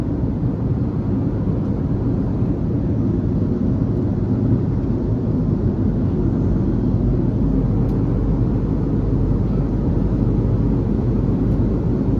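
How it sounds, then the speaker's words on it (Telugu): Inside an airliner cabin in flight between Chennai and Vizag, a constant deep rumbling roar fills the space, loud and unchanging for the whole stretch. "ఇది ఫ్లైట్ ఇన్సైడ్ అండి."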